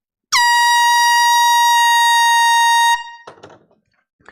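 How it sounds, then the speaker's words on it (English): A single long air-horn blast from a handheld can, blown at a live vinyl record sale, sounds loud and steady for about two and a half seconds, then cuts off into light clattering. "Time to bring out the air horn."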